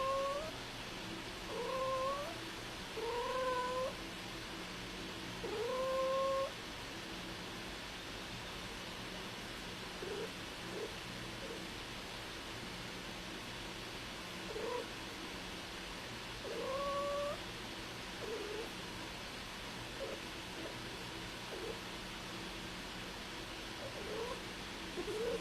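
A female cat in heat yowls in drawn-out, wavering calls, a cluster of loud cries early on and a few more later, separated by quieter stretches of faint hiss.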